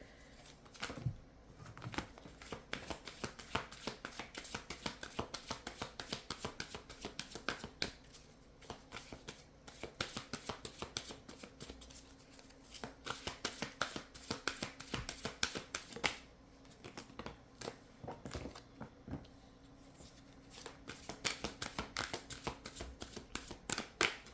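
Tarot cards being shuffled close up, a long run of quiet, crisp riffling and flicking that carries on with short pauses between bursts.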